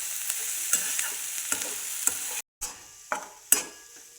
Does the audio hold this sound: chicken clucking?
no